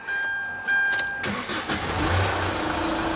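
A Hyundai H-1 diesel van with an automatic gearbox cranks and catches about a second in, then settles into a steady, close, fairly loud idle with no talking.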